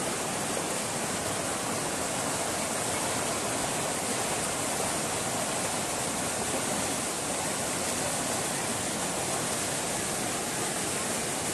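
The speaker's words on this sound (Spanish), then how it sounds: "Esta agua viene con fuerza, miren, amigos, cómo está destruyendo los hogares de nuestros vecinos de San Jacinto" Forceful flood water from a huayco mudflow rushing through the San Jacinto neighborhood, tearing at homes; a loud, continuous broadband roar, steady and close, with no voices over it.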